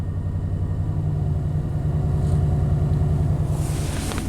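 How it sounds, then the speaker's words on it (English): A 1991 Chevy K1500 truck engine running at a high idle around 1500 RPM with a faulty idle air control valve, a steady close rumble with an even mechanical pulse that lifts slightly toward the end. "You end up with a high idle"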